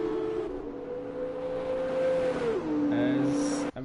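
F2 race cars in a racing video game, engines droning loud and steady with a pitch drop as a car shifts down, with a brief tyre squeal near the end.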